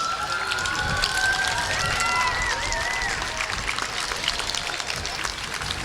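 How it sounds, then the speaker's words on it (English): Outdoor crowd applause along a St. Patrick's Day parade route in Royal Oak, a diffuse, steady clapping wash mixed with whistles and crowd noise, with voices heard in the background. "Let's hear some applause."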